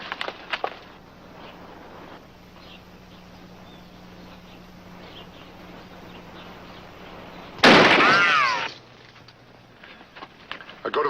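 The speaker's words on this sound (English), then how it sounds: "All right, shoot the lock off." Revolver gunshot blasting a metal lock off, a single sharp loud crack followed by a brief ringing, clattering burst that fades within about a second against a quiet room-tone background.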